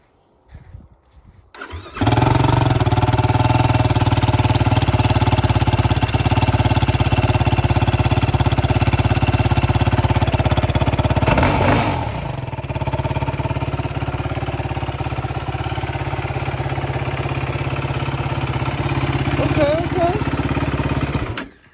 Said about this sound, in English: One last final startup with this,